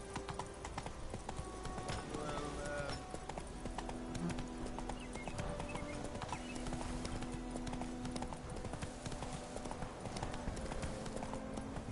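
Geralt's horse Roach gallops in The Witcher on PS4, a fast, continuous clatter of hoofbeats with a steady rhythm, close and prominent over low ambient game sound.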